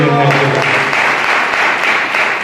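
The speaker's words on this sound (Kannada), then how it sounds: "ಚಪ್ಪಾಳೆ ತಟ್ಟೇವೆ" A church congregation at a Sunday service claps together, a dense, steady wash of applause filling the room loudly throughout.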